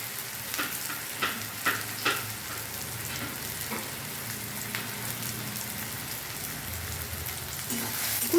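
Chopped onions and garlic fry in a pan with a steady crackling sizzle, punctuated early on by several brief scraping taps of a spatula and a louder clatter at the very end.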